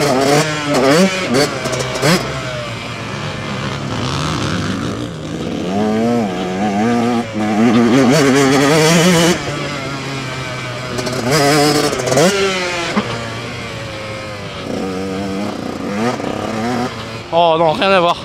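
A motorcycle being ridden, its engine buzzing and revving up and down in repeated surges, close and loud, with someone talking over it much of the time.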